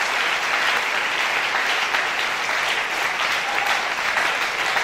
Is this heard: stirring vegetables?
no